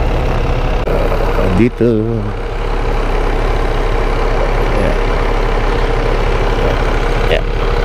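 Motorcycle engine idling steadily at close range, a low continuous rumble that runs the whole time under brief speech, with one short rev or shift near the start.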